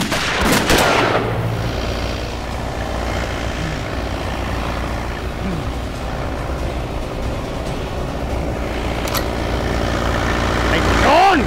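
Loud gunfire at the start of a scene in a Thai action comedy, followed by a steady engine-like hum. Voices shout over the noise.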